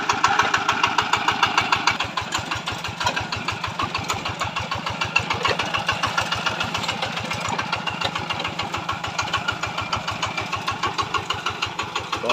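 Yanmar 105 tractor diesel engine idling after starting: a close, steady, rapid chug of evenly spaced firing pulses continues throughout with no talk.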